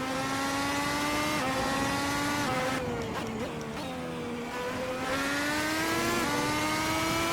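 The Red Bull X2010 race car engine screams at full throttle through the Ascari corners, a loud, close, high-pitched howl that holds steady, dips briefly as revs shift midway, then climbs back to full power.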